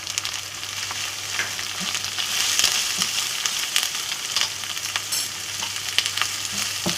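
Tinda with tomatoes, green chillies and spices fries in a pan under a continuous close sizzle, with occasional soft clicks and stirring scrapes.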